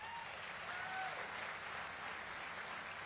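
Steady applause from a crowd at a groundbreaking event, following a Serrano elder's performance, a dense wash of clapping that holds at an even level throughout without voices.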